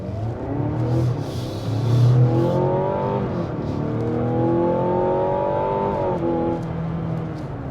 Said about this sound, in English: Let's see if we can accelerate into traffic here.